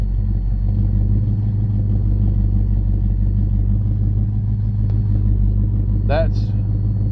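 A 1989 Mazda B2200 pickup fitted with a 302 engine, freshly cold-started, runs steadily close by with a deep low rumble that holds throughout, while someone talks over it and a short chirp cuts in near the end.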